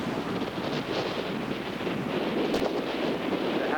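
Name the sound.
wind whipping on a stormy Cape Cod shore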